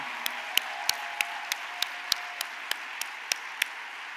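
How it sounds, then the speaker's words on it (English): Sparse, slow clapping from only a few hands in an audience paying tribute to NASA mathematician Katherine Johnson, a dozen distinct quiet claps spaced about a third of a second apart over a soft background. "can we just give a rousing round of applause for the most searched NASA mathematician who we just lost, Katherine Johnson"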